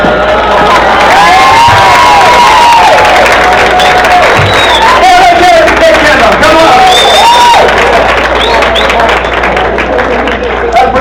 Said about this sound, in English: The applause when I came up at my age, I need all the help I can get.